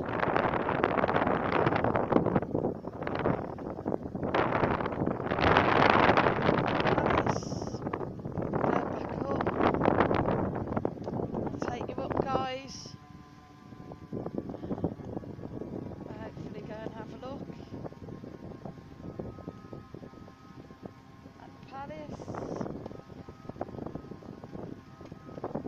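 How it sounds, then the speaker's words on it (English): Strong gusts buffet the microphone in loud rumbling bursts outdoors near Benidorm Palace, then ease to a quieter breezy background with faint distant sounds. "it's a little bit windy today"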